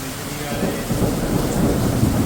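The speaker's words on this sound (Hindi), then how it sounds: "बिजली कड़कने की आवाज़ें आ रही हैं" Deep rolling thunder rumbles continuously through a downpour in a Himachal Pradesh mountain village, low and heavy, with steady rain hissing over it.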